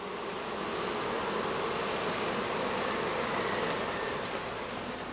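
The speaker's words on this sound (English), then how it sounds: "You can see all the bees." A package of live honey bees buzzing as one dense, continuous hum, close and steady with no pauses and no voices over it.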